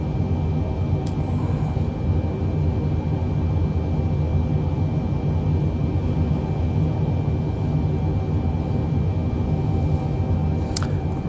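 Steady broadband engine drone of a large aircraft in a flight simulator game, sitting on grass, a constant loud rumble that holds evenly throughout with no voices.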